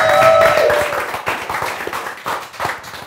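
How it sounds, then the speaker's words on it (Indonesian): A small audience at a gaming event claps for the winning team, with scattered, uneven hand claps after a tonal sound at the start. The clapping thins and comes in loose bursts rather than a full ovation. "Tepuk tangan ya"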